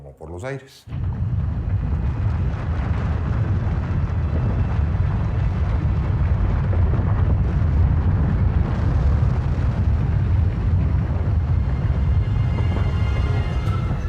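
A volcanic eruption: a continuous, loud, deep roaring rumble with a broad rushing wash that starts abruptly and holds steady throughout.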